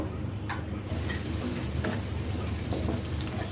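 Fish heads sizzling in soybean oil with onion in a pan, a steady loud hiss of frying with faint bubbling and crackle throughout.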